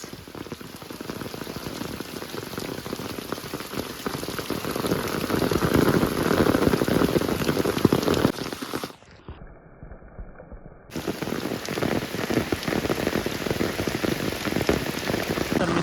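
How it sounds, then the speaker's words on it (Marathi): Heavy monsoon rain pours steadily in a Konkan village, a dense, loud, continuous hiss of drops hitting surfaces that dips briefly about two thirds through before resuming at full strength. "किती आहे तुफान पाऊस पडतोय तुफान पाऊस"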